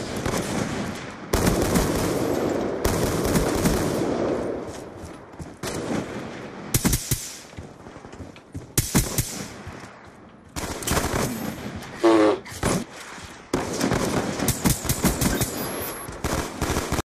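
Suppressed gunfire in a video game comes in rapid bursts of muffled, thudding shots, several long volleys and scattered single pops at close range, with a few short gaps between strings of fire.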